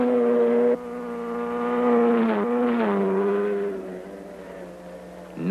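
Engine of a 1960s Suzuki motorcycle revving hard during a factory acceleration test on a test track, a loud buzzing tone rising and shifting pitch through gear changes, then fading off.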